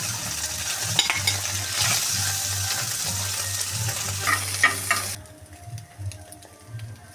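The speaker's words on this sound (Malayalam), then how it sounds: "ഇനി നമ്മൾ ഈ മുട്ട ചെറുതായിട്ട് ഫ്രൈ ചെയ്തെടുക്കുകയാണ്" Chopped boiled egg, steamed on an idli plate, frying in ghee while being stirred. A loud, steady close sizzle carries spatula scrapes and drops abruptly to a softer crackle partway through.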